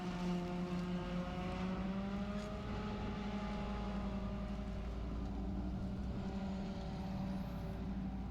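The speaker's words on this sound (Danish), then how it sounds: "Det her, det er faktisk den lille snitter i forhold til over fra Knudsen af." A tractor pulling a forage harvester while cutting corn silage gives a loud, steady low engine drone with a heavy mechanical rumble underneath, close by and unbroken, with no talk.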